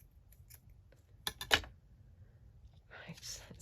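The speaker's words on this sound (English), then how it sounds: "so let's cut this down" Scissors snip through paper for a junk journal craft project, giving a few quick close cuts clustered together, with quiet rustling around them.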